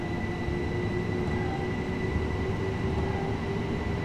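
Southern passenger train running on the East Coastway line toward Brighton in the Train Sim World game, a steady loud rumble of the traction and wheels with a faint sustained whine, continuous and without talk.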